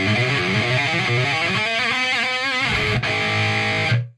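Dense, buzzing electric guitar chords run through a Dimebag-style amp simulator plugin with the Pro Q EQ switched off, loud and sustained for a few seconds before cutting out abruptly.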